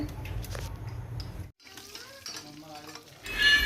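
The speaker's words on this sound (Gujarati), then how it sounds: "તેલમાં રાઈ જીરું નાખી દીધું અને સૂકું મરચું નાખ્યું" Mustard seeds, cumin and dried chili hit hot oil with a loud sizzle and crackle, then the frying quiets into softer popping before a burst of hissing at the end.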